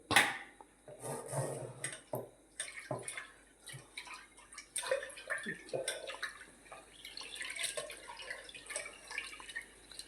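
Water sloshes and splashes close by as lentils are rinsed in a pot, with irregular swishes and drips.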